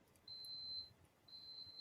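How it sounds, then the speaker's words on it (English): A battery charger beeping from batteries left on it, two thin high electronic tones each lasting about half a second, faint and somewhat distant against quiet room noise. "And that infernal beeping over there from the other batteries."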